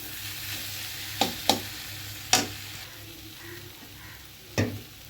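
Potato curry sautéing in a pan with a low continuous sizzle, broken by a few sharp scraping stirs of the spoon against the pan, close and with no talking.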